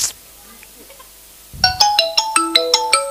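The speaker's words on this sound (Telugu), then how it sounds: "ఈ టైంలో ఫోన్ ఎవరు?" A phone ringtone starts after a second and a half of near silence and plays a loud, bright melodic pattern of repeating rising notes at close range.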